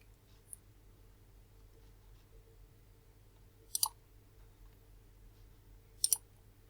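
A computer mouse clicks quietly a few times, once faintly early on and then in two close double-clicks, against a quiet room hum.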